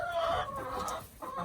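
Hens clucking in a garden where eggs are being laid, with several soft, overlapping clucks nearby and fairly quiet, and no talk.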